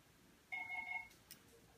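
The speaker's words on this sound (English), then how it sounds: "that fucking phone is going crazy" A telephone rings once indoors, a short electronic tone burst of about half a second, fairly clear against a quiet background, followed by a faint click.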